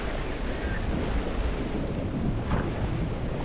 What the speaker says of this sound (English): This incredible guttural deep sound of water just hammering, and then huge waves smashing against the canyon walls.